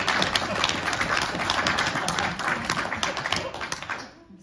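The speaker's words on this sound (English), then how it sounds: "Should we give him a round of applause?" An audience at a live history comedy show breaks into dense, continuous clapping at full strength, holding steady before fading out at the close.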